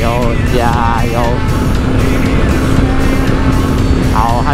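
Honda CB200X motorcycle engine revs and accelerates loudly up close, its pitch rising and falling through gear changes, with wind noise and a rider's voice talking over it.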